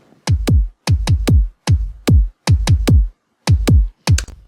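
Layered kick drums hit together in a tight, punchy double-kick pattern, about a dozen deep thuds in short clustered groups with brief gaps, loud and dry with nothing else playing.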